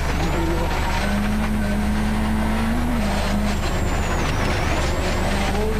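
A loud rally car engine roars continuously at close range during the 1996 Race of Champions, its pitch rising and dipping as it slides through a long left curve on slick dirt under a steady rumble of tires.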